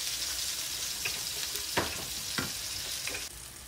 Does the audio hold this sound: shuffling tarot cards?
no